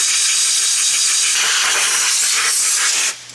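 Compressed air blasts around the spark plugs of a 1968 Buick LeSabre engine, a loud, steady broadband hiss that runs unbroken for about three seconds before cutting off abruptly.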